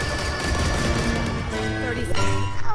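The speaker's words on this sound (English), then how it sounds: "Shoot the wall, shoot the wall!" Rapid gunfire rattles in the Valorant video game as players shoot at a wall, dense and loud under excited shouting voices.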